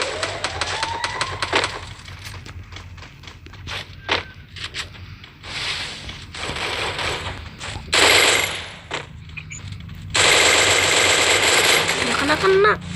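Rapid gunfire in a Counter-Strike style shooter game, dense bursts of automatic shots and clinking casings with short gaps, loud and continuous, with a voice speaking quietly underneath.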